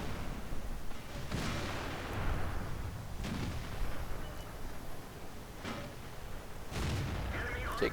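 Tank cannon fire in a tank video game featuring the T30 and Type 59, with several heavy booming shots spaced a second or two apart over a constant rumbling background.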